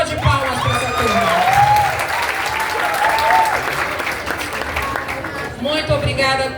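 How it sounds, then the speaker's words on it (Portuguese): A group of students in a classroom applauds steadily for several seconds, with scattered cheers and voices rising over the clapping. "Uma salva de palmas para essa turma."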